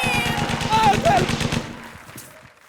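Rapid machine-gun style gunfire effect in a comedy show, a fast even burst of shots up close that fades out, with a voice shouting over it.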